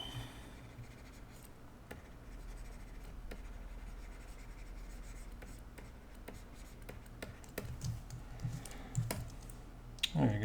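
Pencil or pen scribbling lines on a drawing surface makes soft, continuous scratchy strokes up close, with short tapping clicks and a faint handling rustle toward the end.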